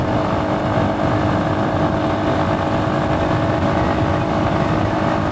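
A motorbike rides along a motorway in strong wind, with a loud, constant engine drone and wind roar that continue through the whole stretch.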